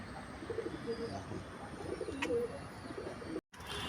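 Quiet, low cooing from a pair of pigeons, a few soft, throaty calls over faint background hiss, ending in a brief dropout.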